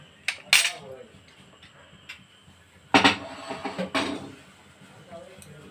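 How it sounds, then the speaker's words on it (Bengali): Utensil clinking against a bowl as plain yogurt is beaten smooth for a Bengali doi bhindi (okra in yogurt) dish: a few sharp, close metallic taps in irregular bursts, with quiet gaps between them. "এই দইটা আমি ভালো করে ফেটিয়ে নেব।"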